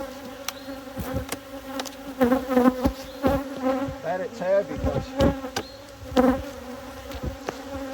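Honey bees buzz steadily inside an opened beehive full of bees, brood and honey, a close layered drone broken by knocks and handling sounds, with a voice speaking briefly.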